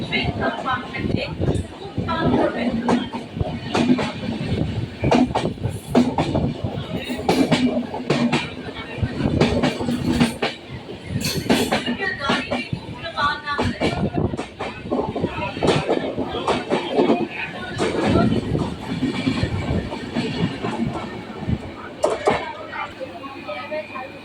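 A train pulls into a busy Howrah station platform, its rolling rumble and wheel clatter running under constant crowd chatter and echoing public-address announcements throughout.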